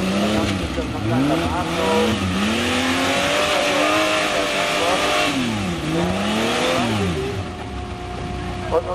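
Trial truck at an ETTM 2012 truck trial section in Oberndorf, its engine revving repeatedly in loud rising and falling swells over a constant roar, close and continuous.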